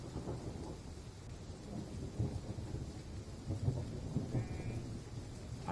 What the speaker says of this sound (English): Oh, I can hear sheep. And thunder.